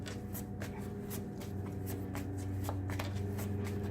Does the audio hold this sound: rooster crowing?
no